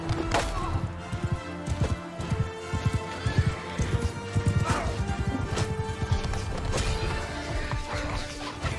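Cavalry horses gallop in a strategy video game, with dense overlapping hoofbeats and clattering thuds, loud and continuous, mixed with battle crashes and the occasional whinny.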